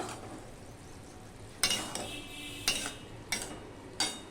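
A lid goes onto a pot of cooking vegetarian mung dal, producing several sharp metallic clanks spaced about a second apart over a faint background hiss.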